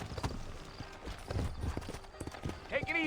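Horse hooves clip-clop steadily in the Red Dead Redemption video game, a fairly faint, even rhythm with a brief whinny near the end, while someone talks over it.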